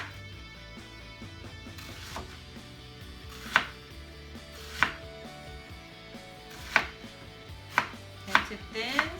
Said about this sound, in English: So just slice up the onions.